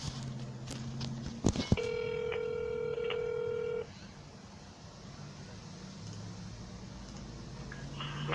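An automatic cold-calling dialer punches a rapid string of telephone keypad tones, a couple of seconds of clean beeps, then the line falls to a quiet hum.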